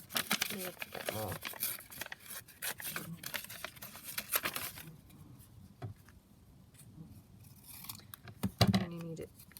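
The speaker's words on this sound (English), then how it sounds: "So I'm just going to tear a little bit more." Paper scraps are torn and crinkled by hand for mass-made flowers, close rustling bursts that come in clusters with pauses, while a voice talks intermittently.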